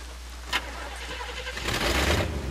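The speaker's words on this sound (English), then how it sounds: "Engine still purrs nicely." A car engine cranks and catches in the game Bayonetta, a brief click and then a rising mid-pitched rumble settling toward idle, heard on its own over a low steady hum.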